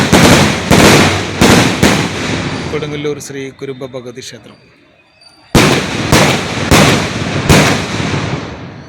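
Loud firecracker bursts of a temple firework offering at Kodungallur, Thrissur, Kerala, boom in a rapid series, pause while a voice speaks over a fading echo, then resume with several more sharp blasts.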